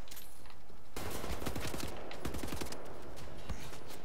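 Bursts of rapid automatic gunfire from the shooter game Wolfenstein: The New Order, loud and close, starting after a brief quieter moment and continuing in dense overlapping volleys.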